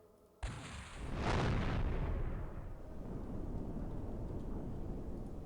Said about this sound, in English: I love the ray tracing for the explosions.